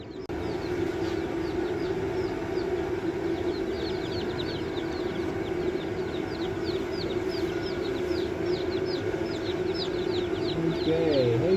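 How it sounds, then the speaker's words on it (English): Baby chicks in a brooder cheep constantly in high, rapid peeps over a steady low hum, close and busy throughout. "Before the chicks get too cold, let's go ahead and get them inside the brooder."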